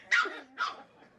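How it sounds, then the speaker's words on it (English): Two quick, high barks from puppies at play, close and fairly loud, about half a second apart. "So it's just puppies being noisy puppies."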